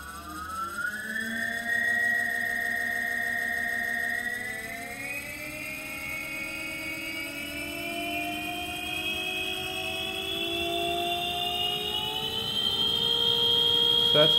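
The electric hub motor of a 1971 Harley bike running at high speed on about 97 volts gives a steady, tonal electric whine that climbs in pitch in stages and grows louder toward the end.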